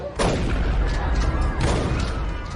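Gang members open fire at a 1960s-themed party in Los Angeles, with a burst of booming, rapid gunshots that stays loud and dense for the whole stretch, sharper cracks standing out near the start and around the middle.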